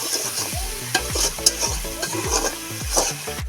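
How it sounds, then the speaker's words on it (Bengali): A semolina snack stirred in a pan, the spoon scraping in quick repeated strokes over a steady close sizzle, with a few sharper clinks against the metal. "আমি এইভাবে নেড়ে নেবো"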